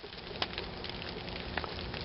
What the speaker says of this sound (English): And it's raining pretty good right now.